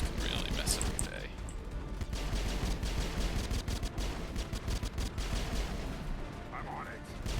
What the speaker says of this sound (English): These snipers can really mess up your day.